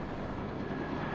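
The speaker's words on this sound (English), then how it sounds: "Chopper." Helicopter in a video game, a steady broadband rotor and engine drone holding even and fairly close throughout, with no talk over it.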